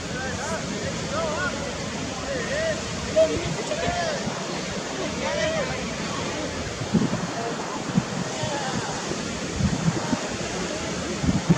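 Little knee-to-waist-high ocean waves break along a beach during a beginner surf lesson, a steady wash of surf with soft wind noise and occasional louder crashes, heard from a distance.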